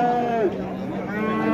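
At a busy cattle market, a cow lets out one loud, close moo that slides down in pitch, with market chatter faint in the background.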